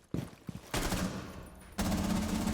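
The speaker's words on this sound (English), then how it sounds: "They actually shoot at you." Enemy gunfire in a Rainbow Six Siege Terrorist Hunt match: a few sharp single shots, then two long sustained bursts of loud, close automatic fire with a brief lull between them.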